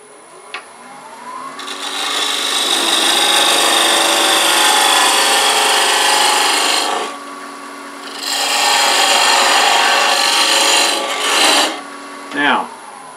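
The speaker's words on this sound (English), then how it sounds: "first I'm going to do a parting cut here so we know where we're turning to" A parting cut on a wood lathe while turning a salt and pepper shaker: a loud, close rasping scrape that runs long, drops out briefly, resumes, then ends in a few short bursts, with no talking.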